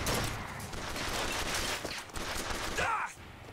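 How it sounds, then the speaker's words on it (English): Rapid machine gun turret fire in Bioshock Infinite, a dense, noisy burst of gunshots and impacts lasting a few seconds, with a voice talking over it. "That MG turret wore off pretty quickly."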